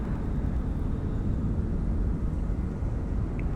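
A UH-1 Huey helicopter with its big twin-blade rotor flies in Flight Simulator 2024, a steady, moderate low rumble and whir with no talk.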